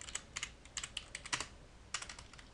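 Computer keyboard keys clatter in short irregular bursts of close, crisp taps, with brief pauses between clusters and no voices.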